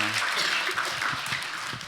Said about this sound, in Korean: 우리 다시 한번 박수로